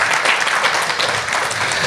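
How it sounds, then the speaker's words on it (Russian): A brief burst of full, dense applause from a talk-show audience at a business forum, loud and steady for its short span. "Пожалуйста, давайте аплодисменты"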